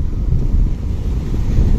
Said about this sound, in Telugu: అలలు చూడండి ఎంత ఎగిసి పడుతున్నాయో.